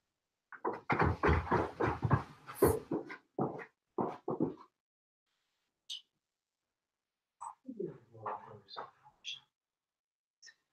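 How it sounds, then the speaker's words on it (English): A dog indoors gives a run of short yips, whimpers and snuffling sounds, then goes quiet and makes a few more scattered whines and shuffling noises while moving about, heard at moderate distance. "What's that dog doing?"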